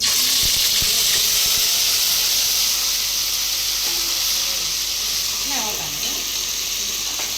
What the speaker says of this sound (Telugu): అల్లం వెల్లుల్లి పేస్ట్ బాగా పచ్చి వాసన పోయే వరకు బాగా ఫ్రై పెట్టుకోవాలి